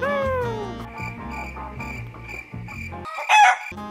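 A chicken sound from the VRChat video game: a descending crow-like call followed by a run of repeated clucky notes and a brief louder squawk at the end, heard alone and up close.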